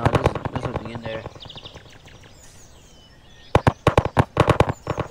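Rapid bursts of gunfire in Garry's Mod, a quick volley at the start and another sharp string of shots near the end, loud and close, with a quieter stretch between.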